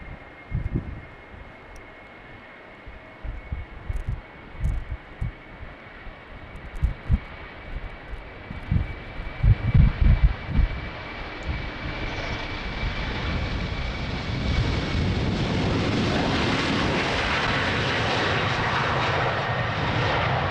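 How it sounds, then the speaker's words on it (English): A jet airliner takes off from runway 36L at Amsterdam Schiphol on a windy day. A distant low rumble starts faint and builds into a loud, sustained engine roar as it rolls and climbs, with gusty wind noise underneath. "Now rolling and taking off."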